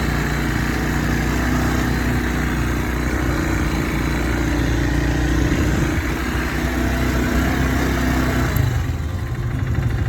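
A quad bike engine runs steadily on a desert ride, a loud and continuous mid-pitched drone that holds its level the whole time, with a slight change in tone near the end.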